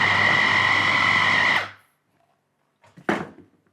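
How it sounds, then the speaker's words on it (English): A food processor grinds boiled yam into a soft pounded-yam dough, a loud motor whine that runs steadily and then cuts off, followed by silence and a few brief clunks. "you basically just let the food processor mix and grind it until it becomes a soft dough"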